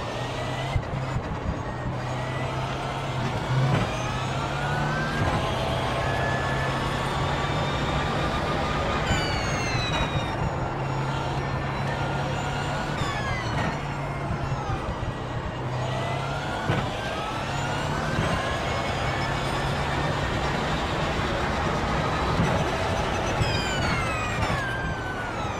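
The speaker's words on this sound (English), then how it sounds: "I love hearing that low-end diesel just chugging away when you're in the lower RPMs" An Audi R18 diesel race car in the iRacing sim chugs along steadily at low RPM, a continuous low engine drone with shifting tonal harmonics and brief variations in pitch, loud and constant throughout with no talk.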